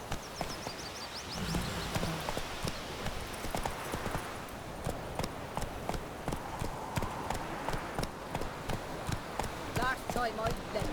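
Roach, a horse in The Witcher 3, trotting with a rapid, regular clip-clop of hooves that runs steadily throughout, with someone talking over parts of it.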